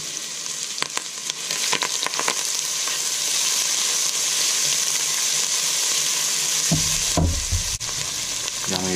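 Chopped asparagus stalks and onion frying in a pan for risotto give a steady, loud sizzle with a few stirring scrapes, rising into sharper crackles near the end.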